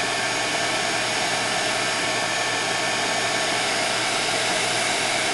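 A heat gun blows steadily while heating vinyl on a Yeti or RTIC tumbler. The loud, even, broadband rush of hot air holds constant throughout with no speech.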